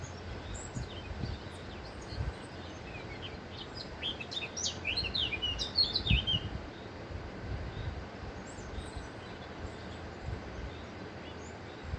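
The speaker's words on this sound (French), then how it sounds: "Ah, le merle ne veut pas que je parle." A blackbird singing outdoors, its fluting phrases fairly faint and set back over a low rumbling background, clustered mid-way with scattered shorter notes before and after.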